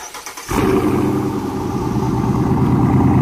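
Exhaust of a 2017 Dodge Challenger Octane R/T fitted with Dynomax Mini Race Bullets, with a loud, deep engine rumble that kicks in sharply after a brief pause and then holds steady close by.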